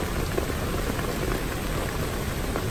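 Light drizzle falling at a campsite at night, a steady, dense patter of drops spread across the whole clip with constant loudness and no voices.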